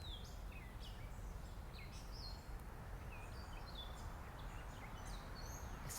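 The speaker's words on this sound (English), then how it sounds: "Oh, you hear the birds?" Outdoors on a nature walk with dogs, small birds chirp and trill in short, scattered calls over a faint, steady background hiss.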